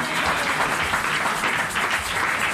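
A church congregation applauds the Lord in a dense, continuous wash of clapping that stays at an even loudness throughout, with no voice standing out above it.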